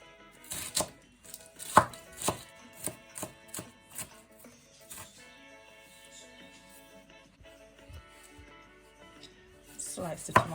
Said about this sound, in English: Just rough chop the lettuce.